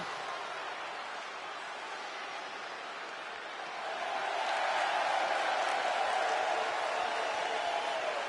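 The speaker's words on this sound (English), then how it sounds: "Now everybody shut up and clap." A video game wrestling crowd claps and cheers as a steady, dense roar that swells noticeably louder about halfway through and then holds.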